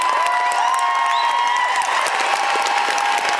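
Concert audience at TCU Place in Saskatoon applauding for a performer during a concert, a loud, dense wash of clapping with cheers and whistles rising over it, sustained throughout.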